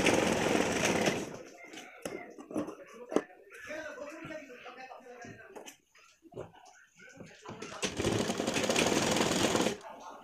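A sewing machine joins cut fabric pieces for a pleated pillow cover, running loudly in two bursts at the start and end, with someone talking in between while handling the cloth.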